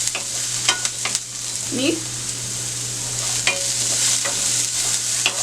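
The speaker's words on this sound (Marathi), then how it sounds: "कांदा चांगला गोल्डन होईपर्यंत भाजून घेऊया" Onion frying in hot oil with cumin, mustard seeds and curry leaves for corn bread pakode, a steady sizzle broken by several sharp spoon scrapes and clinks against the pan, with a brief spoken word.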